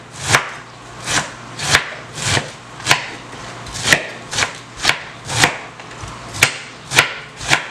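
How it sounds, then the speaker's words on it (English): A knife shreds a head of cabbage for a shepherd's pie, giving about fourteen crisp chops in a steady, even rhythm close by, with no talking. "now I'm gonna shred this cabbage right here"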